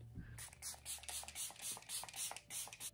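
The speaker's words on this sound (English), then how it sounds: "So here is the setting spray." Makeup setting spray misted from a pump bottle: a run of short, crisp hissing bursts in quick regular succession, close and fairly quiet, following a brief low thump at the start.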